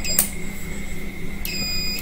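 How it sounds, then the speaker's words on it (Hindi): Multimeter set to buzzer continuity range beeps while testing a fuse from an SMPS power supply: a steady, high-pitched electronic tone runs throughout, with brief clicks as the probes touch. "ये देखिए ये बीप साउंड आ रही है, मतलब फ्यूज ओके है हमारा।"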